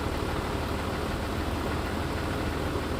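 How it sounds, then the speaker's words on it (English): A diesel truck engine in DayZ rumbles at a steady idle, a loud continuous low droning hum with a slight knocking texture and no voices over it. "Sorry for the loud noise of the diesel engine."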